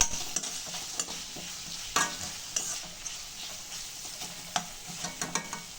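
Turmeric powder is sautéed and stirred through ingredients in a frying pan. A steady low sizzle runs throughout, broken by a series of sharp spatula scrapes and taps, with no talking.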